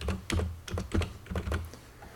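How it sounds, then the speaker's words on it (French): Keys clatter on a computer keyboard as a server address is typed in, a quick close burst of about six or seven taps over two seconds with no talk. "je tape l'adresse de mon serveur"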